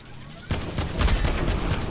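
Rapid Fortnite gunfire erupts after a quiet half-second, a dense run of close, loud shots rattling on without pause.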